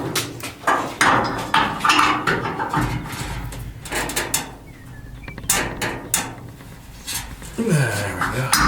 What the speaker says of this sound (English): I'm going to go ahead and rip that out of there.